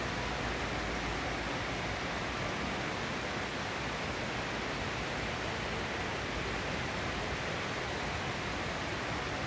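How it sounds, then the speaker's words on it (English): An indoor waterfall in a Las Vegas casino atrium pours continuously, giving a steady, dense rushing wash of water with no variation or voices. "I love the sound of waterfalls falling"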